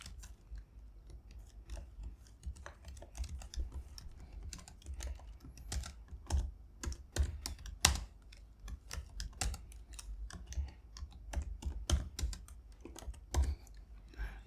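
Python code is typed on a Mac keyboard in steady, close keystrokes, with irregular clusters of sharp clicks and a few heavier taps, and no talk.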